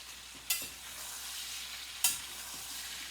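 Sambhar ingredients with salt stirred together in a pot over medium heat, a steady soft sizzle with two sharp scraping stir strokes spaced apart.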